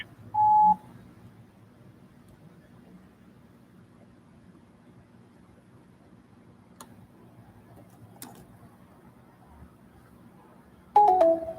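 An automated voicemail system sounds its recording tone: a short, steady, mid-pitched electronic beep at the start, then near-silent line hiss, with another brief tone at the very end.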